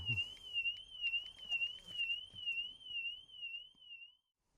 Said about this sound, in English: the alarm's now going off in the car